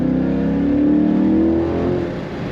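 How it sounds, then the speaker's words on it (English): Steady deep exhaust drone from a 2022 Chevrolet Corvette Convertible 3LT Z51 under acceleration, loud and close, with a rising engine tone as revs climb. "I hope you get to hear that exhaust note."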